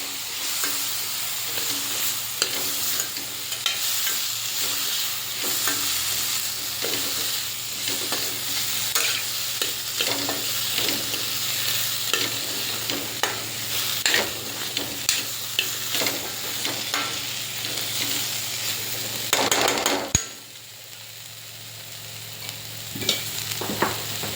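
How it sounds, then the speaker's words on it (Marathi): Chopped cauliflower and potato stir-fried in a pan, a loud continuous sizzle with frequent scraping and tossing strokes of a spatula, close up, dropping to a quieter sizzle near the end. "छान परतून घ्यायचं आहे आपल्याला."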